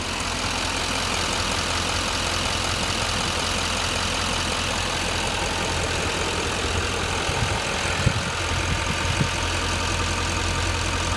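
A 2015 GMC Sierra 2500 Denali Duramax diesel pickup engine idles steadily up close, a constant low rumble with a faint rhythmic knock, running alone without any talk.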